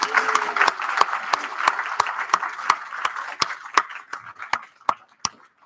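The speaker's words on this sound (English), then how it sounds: "Ezra, can we just give Ezra a round of applause?" Audience applause at a book launch event: a steady patter of many hands that thins toward the end, leaving a few louder individual claps spaced apart, fairly close and without talk.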